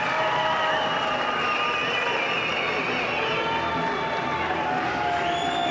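Loud arena crowd at the 2019 Mosconi Cup pool match, USA versus Europe, roaring, cheering and clapping in a steady dense wash that holds for the whole stretch with no clear breaks.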